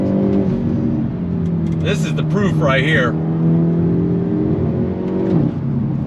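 A 2022 Hyundai Elantra N, a front-wheel-drive performance car, pulls hard under acceleration, its engine note droning and climbing steadily from inside the cabin while someone talks over it.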